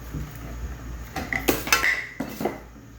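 A metal pan is set on a stove with a few close, bright clanks and clatters of cookware, loudest in quick knocks midway, in a quiet kitchen with no talking.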